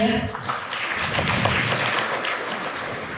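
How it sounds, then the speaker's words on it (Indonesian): Lively audience applause at a national outstanding-student award event, a dense wash of many hands clapping that starts after a brief moment and holds steady and fairly loud throughout. "Boleh beli aplaus yang meriah"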